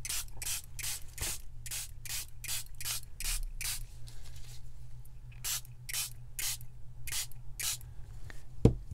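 A spray bottle sprays coffee dye through a stencil onto paper, hissing in quick, regular bursts, about a dozen short sprays in a steady rhythm, pausing briefly, then resuming, close and fairly quiet.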